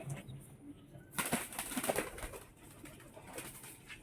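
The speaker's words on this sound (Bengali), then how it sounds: "এই যে দেখো এই দেখো, খেলা পায়রা" Black Lotan pigeons in a large loft coo softly, then a sudden loud burst of flapping wings breaks out and continues as fluttering and shuffling nearby.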